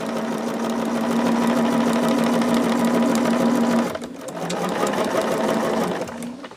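Sewing machine stitching quilt pieces, a steady loud whirring motor run for about four seconds, then a brief pause and a shorter second burst of stitching.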